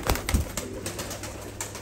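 White Kerkük-type play pigeons coo softly in a loft, low murmurs near the start amid a steady hum and light rustling, close and fairly faint.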